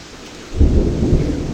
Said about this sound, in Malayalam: നല്ല ഇടി ഓട്ടുണ്ട് കേട്ടോ നല്ല മഴ ഇടിയാണ് ഇവിടെ തോരാത്ത മഴയാണ്